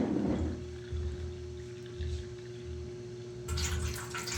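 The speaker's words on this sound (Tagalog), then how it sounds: "butangan na naton tubig, 2 ka baso" Tap water is poured into a pot in a few gurgling splashes, close by, with a low steady hum in the background.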